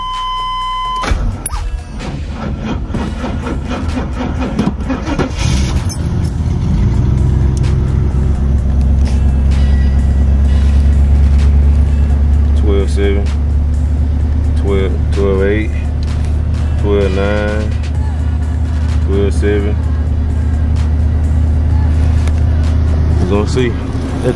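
A boxy Chevy with a new high-output alternator cranks over briefly, then catches and settles into a steady, loud idle that runs on, with people talking over the engine.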